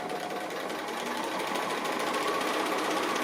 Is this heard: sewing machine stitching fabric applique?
yes